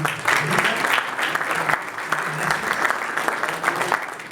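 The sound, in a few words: audience applause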